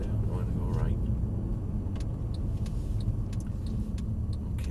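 A car driving slowly on a road during a driving lesson, steady low engine and road rumble throughout, with faint ticks above.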